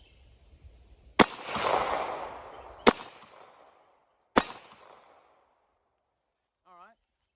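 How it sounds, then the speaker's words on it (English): A Kahr P380 pistol fires three sharp shots left-handed at an outdoor range, evenly spaced about a second and a half apart, each with a short ringing tail. "I'm going to try 3 shots left-handed."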